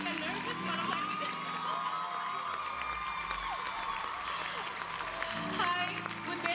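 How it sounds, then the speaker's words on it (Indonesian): Concert crowd at an intimate Kuala Lumpur show applauds and cheers, a dense wash of clapping and voices throughout, with a sustained tone and some talk mixed in beneath. "boleh saya minta tepuk tangannya?"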